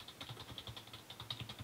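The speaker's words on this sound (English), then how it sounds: "I type some random stuff on the keyboard" Quiet, rapid typing on a SteelSeries Apex computer keyboard, an uneven patter of many small key clicks in quick succession, close but faint and with no speech.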